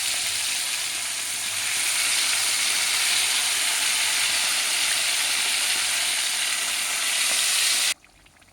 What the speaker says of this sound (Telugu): కొంచెం మీడియం ఫ్లేమ్లో పెట్టి వేయించుకోవాలండి అన్నీ